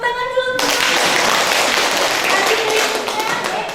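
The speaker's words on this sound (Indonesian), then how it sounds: "Tepuk tangan dulu." A class of pupils claps their hands together in a dense, loud burst that starts abruptly after a brief tone and continues steadily for several seconds.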